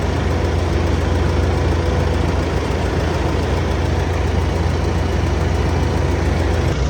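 A harvesting machine's engine idles on a farm while being readied for harvest, a steady, loud, low rumble with a faint knocking vibration, close and unchanging throughout.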